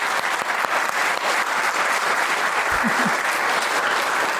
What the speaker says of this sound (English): please, maybe one more round of applause for everyone.